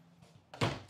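A cabinet door in a 2024 Grand Design Influence 3704BH fifth wheel shuts with one soft, solid thunk after a faint brush of movement, close and quiet.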